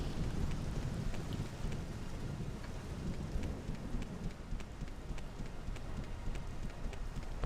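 Steady rainfall in the video game Morrowind with the Tamriel Rebuilt mod, a soft continuous hiss with a low rumble underneath and scattered light drop ticks, even and unbroken.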